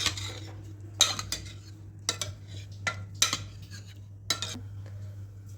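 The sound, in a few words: stirring cooked dal (lentils) in a pot to mix it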